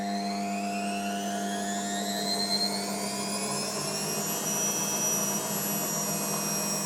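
The motor of a Blomberg WNF6221WEN washing machine runs in service-mode test, a close, steady mechanical whine that climbs in pitch as the drum speeds up, then holds near the end. No one speaks.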